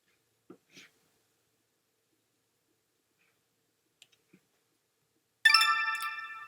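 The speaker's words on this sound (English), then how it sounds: "you're going to wait for a sound that's going to appear when this is over" A software chime sounds when an After Effects render finishes, a bright ringing tone with rich harmonics that starts abruptly after near-silence and a few faint clicks, then rings out and slowly fades.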